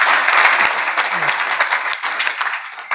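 An audience at a Marathi kirtan claps together in a sustained round of applause that stays fairly loud and dense for several seconds.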